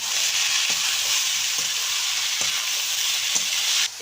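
Chopped ash gourd sizzles steadily in a hot wok with dal, five-spice and green chilli, a loud continuous frying hiss with faint stirring knocks and no talk.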